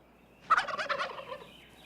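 A wild turkey gobbles once, a loud rapid rolling burst lasting about a second that rises abruptly out of quiet and trails off, heard fairly close with no other voices.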